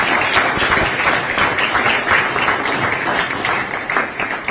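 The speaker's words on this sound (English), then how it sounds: "a round of applause to thank President Ruto" A large crowd applauds steadily at a U.S.-Kenya business and investment roundtable, dense clapping filling the room at a constant loud level throughout.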